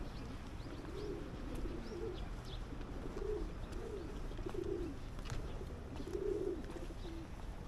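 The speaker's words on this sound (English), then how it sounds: "Pigeons coming to pray" Pigeons coo softly at a temple in the Japanese Alps, several low burbling calls repeating every second or so over a steady outdoor background hiss.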